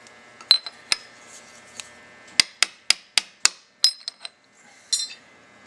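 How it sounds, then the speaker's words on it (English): A hammer taps a rivet into place on a boat in a series of sharp, close, metallic knocks. Some come singly and some in quick clusters, with quiet gaps between them. "So what we want to do is set that on that rivet. Give it a tap."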